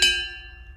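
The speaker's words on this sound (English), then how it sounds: "Sorry for the noise, I'm getting my coffee." A single bright metallic clink of a cup or dish while coffee is made, ringing out briefly and decaying over low room hum.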